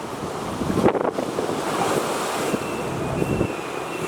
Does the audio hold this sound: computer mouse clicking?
no